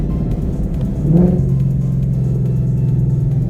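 A drag-tuned Ford Shelby GT500 pulls hard through its gears on the road, its deep engine drone swelling as it shifts about a third of the way in, then holding a loud, steady rumbling roar.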